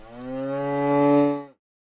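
A single long, loud moo from a cow, close by and alone, swelling steadily before cutting off abruptly into silence.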